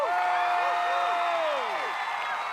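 A studio audience on a celebratory TV show applauds and cheers for a singer, a steady wash of clapping under bright, sweeping electronic sound effects.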